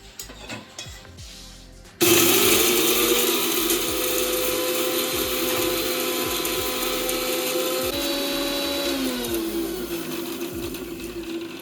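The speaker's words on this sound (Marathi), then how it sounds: "आपण जो हा मसाला आहे खडा मसाला हा बारीक करून घेणार आहे मिक्सरमध्ये" A mixer grinder grinds whole spices for a Konkani-style crab curry. After a brief quiet start its motor kicks in with a loud, steady whir and rattle, and the pitch shifts partway through as the load changes.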